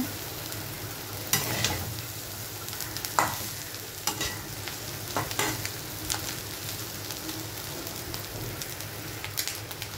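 Vegetable bhaji sizzling and frying in a pan with coriander leaves, a steady crackling hiss broken by occasional louder scraping stirs, close and alone.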